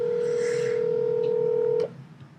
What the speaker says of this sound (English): All right, we're calling somebody.